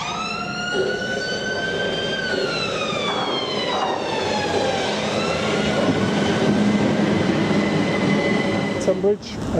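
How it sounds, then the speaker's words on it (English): A train sits at Tonbridge station on the Redhill branch line with a steady rumble and a long, rising and falling tonal whine, and brief clanks near the end. "So this is my train to Nutfield."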